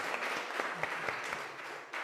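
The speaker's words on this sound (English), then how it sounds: "maybe a big applause there" Audience applause at a 2021 finals and awards event, a short burst of moderately loud clapping with distinct individual claps standing out, heard from within the room.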